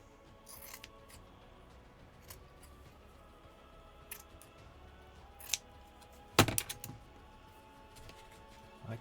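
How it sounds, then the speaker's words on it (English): Scissors snip through material while a Warframe cosplay piece is being made, giving a few quiet, sparse cuts and one sharper, louder snip against a faint room background. "Scissors."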